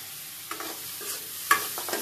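A spatula stirs chili and cumin powder in a frying pan, giving quiet, intermittent scrapes and light sizzling with short pauses between strokes.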